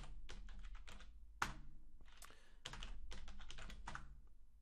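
A passphrase is typed on a computer keyboard: quiet, close clicking keystrokes in irregular quick runs with a few brief gaps.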